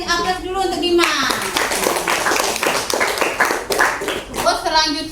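Children in a classroom applauding for a classmate, a burst of quick scattered clapping for a few seconds, with an adult voice speaking at the start and end.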